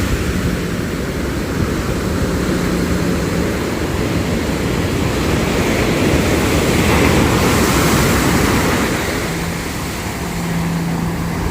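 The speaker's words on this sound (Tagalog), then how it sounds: "Ang lapit na ng dagat." Sea waves wash onto a nearby shore in a loud, continuous roar that swells gently and ebbs, with wind over the microphone.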